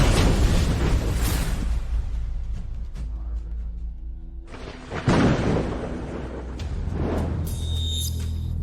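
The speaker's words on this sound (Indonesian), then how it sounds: "Ayah, hati-hati. Petir." Thunder rolls through a fantasy sword-god battle scene, with deep rumbling booms that swell, fade and strike again around the middle, layered with whooshing effects and no talk over it.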